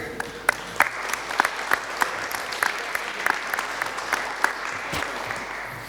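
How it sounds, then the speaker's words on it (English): An audience at a game developers' panel discussion applauds with steady, sharp clapping that fills the room for several seconds, loud and close, with no talk over it. "So applause for Pavel Dobrovský."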